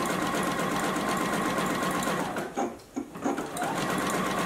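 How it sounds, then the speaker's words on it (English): A JUKI sewing machine runs steadily, sewing a satin stitch along a drawn line on a fabric beverage coaster, a continuous close whir that briefly dips and stutters near the end before resuming. "So just as we sew, keep that mark on the presser foot"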